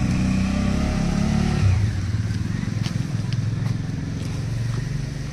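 A vehicle engine revs loudly up close and then settles into a steady rumbling drive as a ride sets off on snowy roads in North Sikkim.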